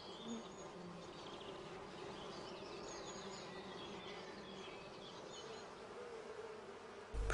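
Honey bees buzzing inside a hive make a faint, dense, unbroken hum with a few higher whines drifting over it throughout.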